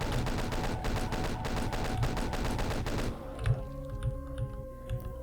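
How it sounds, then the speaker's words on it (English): Rapid chain gun fire in Doom 2 aimed at a distant cacodemon, a dense stream of evenly spaced shots for about three seconds, then it stops, leaving scattered game thumps and tones. "Gotta snipe the other one with the chain gun since he's further away."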